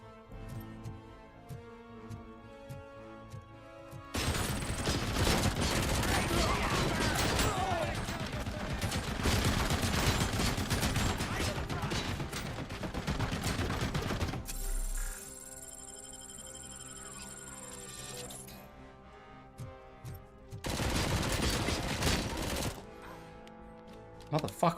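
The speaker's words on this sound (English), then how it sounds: "Motherfucker was on a machine gun." Machine gun fire in the RoboCop: Rogue City video game, long dense bursts of rapid shots broken by quieter stretches, with music and game sounds running underneath.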